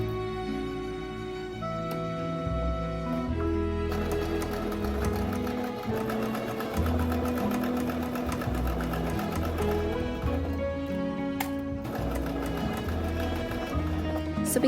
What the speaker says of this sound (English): Now I'm going to pin and sew the waistband right sides together for both panels.